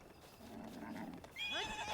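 A horse in a Zelda video game whinnies during taming, a rising then wavering neigh at the end after a muffled, scuffling stretch.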